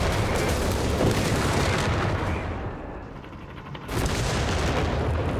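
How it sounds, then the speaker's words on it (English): Infantry support gun firing in the Company of Heroes 3 war strategy game, loud sustained booming battle noise with dense gunfire that dips briefly before a renewed heavy blast. "Got a little shot from the infantry support gun."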